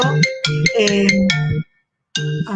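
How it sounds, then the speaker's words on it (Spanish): A mobile phone ringtone goes off during a Spanish-language discussion: a loud, bright electronic melody plays one phrase, stops briefly, then starts again, with no talking over it. "justo me llama por teléfono en este momento"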